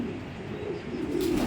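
A racing pigeon coos softly in a low, throaty murmur, close by and steady over a faint background hum.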